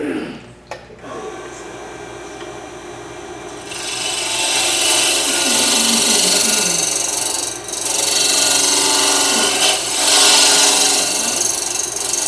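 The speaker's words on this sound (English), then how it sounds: "It's just a round nose scraper? Yeah, it's more like flat round nose this time." A flat round nose scraper cuts wood on a lathe while turning tulips, with a loud continuous rasping scrape over the lathe hum that starts partway in and carries on with brief dips. Speech is heard briefly.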